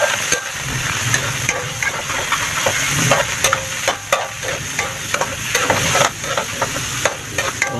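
Fatty pork frying in a pan for laing with malunggay, a loud steady sizzle with frequent clacks and scrapes of a utensil stirring, close up with no talking.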